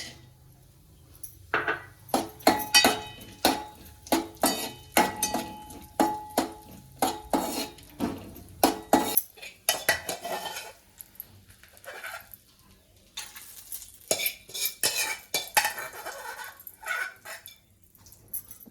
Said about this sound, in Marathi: आता काय टाकायचे हे भाजून घ्यायचे तुपात